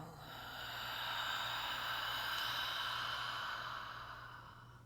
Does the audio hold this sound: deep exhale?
yes